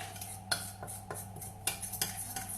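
Egg yolks, sugar and flour being mixed with a fork in a bowl for a rolled sponge cake: a steady scraping stir punctuated by about six sharp clinks of metal on the bowl, close and alone over a low hum.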